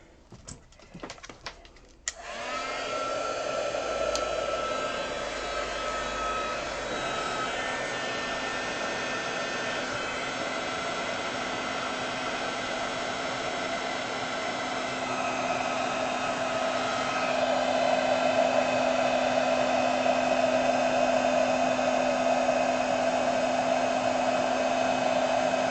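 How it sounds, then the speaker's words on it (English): A handheld heat tool blows a steady, loud whoosh close by while heat setting embossing powder on a handmade card, starting after a brief clatter and running continuously, slightly louder toward the end. "a bit of noise while I heat set that"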